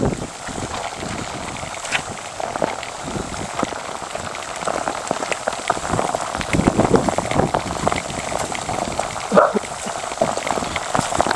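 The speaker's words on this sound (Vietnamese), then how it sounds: "mưa rất là nhiều, mà mưa to" Heavy rain pours down during a storm in Dong Van, Ha Giang, Vietnam, a dense, steady roar of drops drumming on surfaces, close and loud throughout with no talking.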